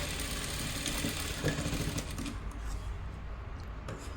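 A sewing machine stitching a blouse, a continuous fast mechanical whir close by at low level, with no voices.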